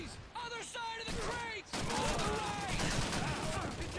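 Gunfire in the video game Call of Duty 2, with dense rapid bursts of shots and explosions that fill the scene. People talk over the shooting.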